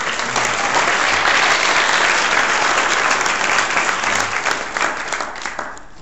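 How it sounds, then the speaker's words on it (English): A large crowd at a network marketing and sales event applauds steadily and loudly, a dense wash of clapping that holds for several seconds before tapering slightly at the end. "So big round of applause for all of you guys as leaders."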